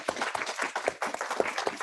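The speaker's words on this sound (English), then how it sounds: "there was good applause here in the room" Brief burst of room applause from a panel audience at a climate change event, dense steady clapping lasting under two seconds with no talk over it.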